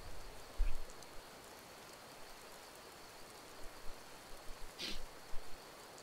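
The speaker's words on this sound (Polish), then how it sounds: "O, pada, ja nie lubię jak pada." Steady, soft rain in the video game The Elder Scrolls V: Skyrim hisses in the background, with a few faint thuds and a brief sharper splash; no voices.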